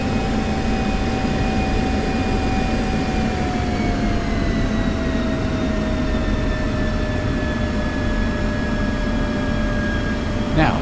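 An F-16 jet engine in the DCS flight simulator, with the throttle snapped to military power then back to idle, gives a loud, steady roar with a high whine that drifts slightly lower in pitch.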